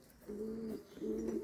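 Pigeons coo around open coops where the birds are free to move in and out, two low, warbling coos with a short gap between them, close by and moderately loud over quiet background air.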